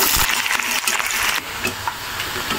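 Onion and green chillies dropped into hot oil already spiced with fenugreek seeds and red chillies, giving a brief loud sizzle and crackle that settles into a steady fry.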